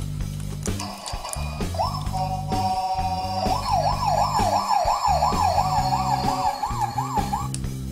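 A toy fire and rescue vehicle from a Max Action Fire and Rescue set sounds a loud electronic siren that wails up and down in a fast, steady warble for about six seconds, over a low background hum.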